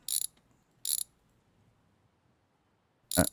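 Three sharp bursts of ratchet clicking as wheel bolts are undone in the car-repair game My Garage, each spaced about a second apart, with near silence between them.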